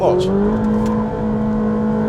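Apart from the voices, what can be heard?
Ferrari 458 Speciale engine revving under throttle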